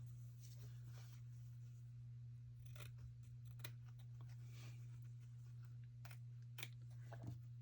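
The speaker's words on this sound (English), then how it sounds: "right now I'm going to cut out the tabs here on the blue portion" Scissors snip tabs from the blue fabric portion of a miniature dollhouse bed, a series of faint, scattered crisp cuts under a steady electrical hum.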